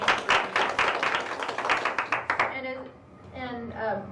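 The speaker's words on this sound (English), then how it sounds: "Let's give Peter a round of applause." Audience at a ward meeting clapping, a quick cluster of close hand claps for a couple of seconds that trails off into a few scattered claps, with voices talking afterward.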